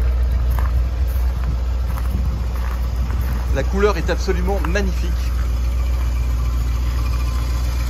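A 1962 Ford Thunderbird engine idles smoothly, a steady low hum running unbroken throughout while someone talks over it in the middle of the clip.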